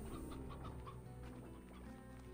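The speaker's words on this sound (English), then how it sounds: "Oh, those are hens, actually." Hens cluck repeatedly in the video game Slime Rancher, with a steady run of short, clear clucks close by over a constant game background hum.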